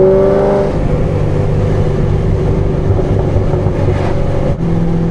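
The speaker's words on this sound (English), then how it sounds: "Fifth gear, full throttle." A Corvette C6 Z06 pulls at full throttle in fifth gear, its engine a loud, steady droning roar heard from close by, holding a sustained tone for several seconds with no talking.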